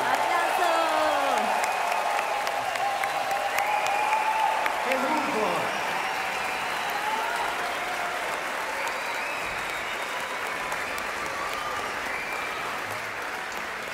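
A concert audience applauds an orchestra, giving long, sustained clapping and cheering from a large crowd that slowly thins, while someone speaks over it at times.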